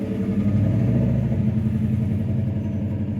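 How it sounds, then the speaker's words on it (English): Truck with a loud exhaust passing close by, a heavy low engine rumble and throbbing exhaust note that swells and then eases slightly as it moves along, steady and loud with no talk. "I'm gonna wait for this truck to go by."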